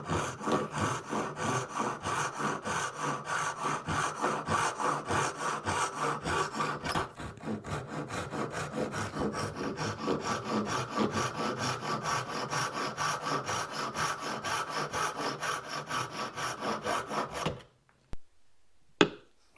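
A hand saw cuts slots into walnut in steady, rapid back-and-forth rasping strokes, close and continuous, before stopping abruptly near the end with a couple of small knocks.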